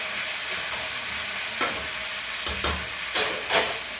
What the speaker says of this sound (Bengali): দেখছি নাড়াচাড়া করলাম তরকারিটা